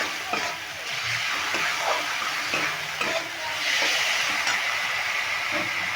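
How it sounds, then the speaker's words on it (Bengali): A masala of ginger paste and green chili paste cooks with a little water in a pan over medium heat for a banana-flower curry, hissing and sizzling steadily while a spoon scrapes and taps now and then. "এবার মশলাটাকে খুব ভালো করে জল দিয়ে কষিয়ে নিতে হবে"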